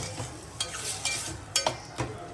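Onion, ginger garlic paste and tomato cooking in a pan for crab gravy, a soft low sizzle punctuated by several distinct stirring clinks and scrapes.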